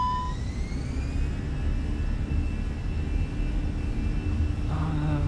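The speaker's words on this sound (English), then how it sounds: "Let's release the parking brake. Let's go full throttle." Airbus A320 engines spooling to full takeoff thrust in Microsoft Flight Simulator 2020, a loud continuous jet roar with a rising whine that holds steady throughout, alone with no talking.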